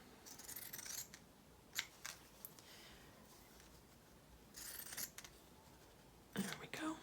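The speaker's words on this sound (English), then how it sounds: "I'm gonna cut it out just to have handy." Scissors cutting out a paper snowman, with quiet snips and paper rustles in a few short bursts separated by pauses, close but soft.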